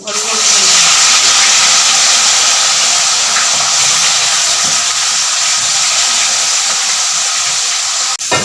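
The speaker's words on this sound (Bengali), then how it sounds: "এবার আমি দেবো হচ্ছে চিকেনটা একবারে দিলে গায়ে ছিটকাতে পারে" Chicken goes into hot oil in a kadai and sizzles loudly, a dense, continuous hiss that holds steady for several seconds, close and strong.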